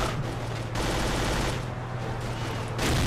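Rapid gunfire from the shooting video game Agent Under Fire, a dense and continuous barrage of shots with steady loudness and a low rumbling undertone throughout, with no talking.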